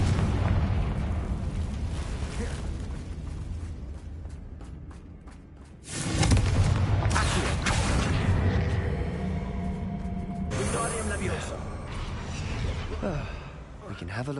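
Fiery Confringo spell blasts burst in the Hogwarts Legacy game, loud booming explosions with crackling rumble, the biggest hitting around the middle and another a few seconds later, amid game voices and combat noise.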